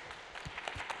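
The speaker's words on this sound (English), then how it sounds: "Big round of applause" Brief burst of audience applause at a startup pitch demo day at HEC Paris, steady clapping from a crowd, moderately loud, with no talk.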